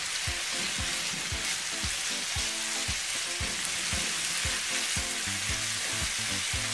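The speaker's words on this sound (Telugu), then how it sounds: "ఇప్పుడు ఒకసారి కలుపుకుందాం." Tomato rice masala with chilli powder being stirred in a frying pan, giving a steady loud sizzle with repeated scraping strokes of the spoon at a quick, uneven rhythm throughout.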